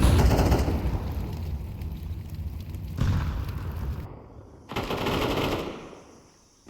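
Rapid SMG bursts rattle in Counter-Strike 2, loud and dense, broken by a couple of abrupt cuts before the fire resumes.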